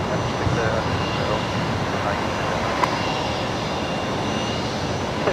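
Jet aircraft taking off from runway 19 right at Brisbane airport, a steady broadband engine roar heard from a distance, continuous and unchanging throughout, with faint voices in the background.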